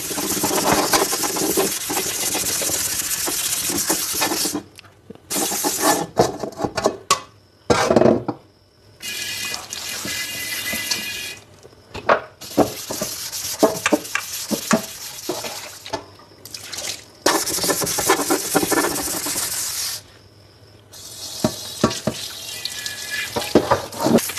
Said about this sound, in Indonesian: Jadi ini kita sekarang cuci dulu bersih.